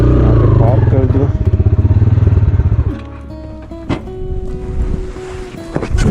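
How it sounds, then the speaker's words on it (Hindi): A motorcycle being parked on a mountain trail in Chitral Gol National Park runs with a loud, close, throbbing idle. The engine then cuts off, leaving quieter outdoor sounds with scattered clicks. "मैं ज़रा बाइक यहाँ पे पार्क कर दूँ।"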